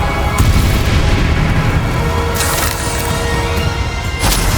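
Bombarda and Confringo spells blast in Hogwarts Legacy, loud booming impacts layered over a dense, continuous rumble of combat with sharp cracks near the middle and end.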